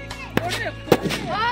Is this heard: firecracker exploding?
yes